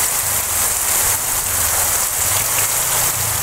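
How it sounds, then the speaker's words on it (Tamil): Heavy summer rain pours down over Kotagiri in the Nilgiris hills in a loud, unbroken hiss, with dense drops drumming on surfaces close by. No one speaks. "நீலகிரி மாவட்டம் கோத்தகிரியில் சுமார் ஒரு மணி நேரத்திற்கு மேலாக கனமழை கொட்டி தீர்த்தது."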